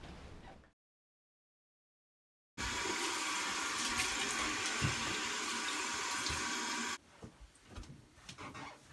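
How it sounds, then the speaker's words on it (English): Water runs steadily from a bathroom tap while a face is rinsed clean after removing a facial mask, a continuous close hiss that stops abruptly, followed by faint splashing and handling noises. "it's time to remove our masks and wash our face again"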